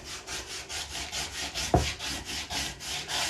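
Self-adhesive vinyl is rubbed firmly onto application tape, giving a rhythmic back-and-forth scraping swish of about a dozen even strokes with one sharper knock partway through. The sound is close and moderately loud.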